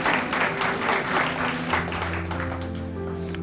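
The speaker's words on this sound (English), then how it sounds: "I know we clap for her, but I think we should clap for her again." An audience at a building renaming ceremony breaks into sustained applause, a steady dense clapping that fills the room, with a low hum underneath.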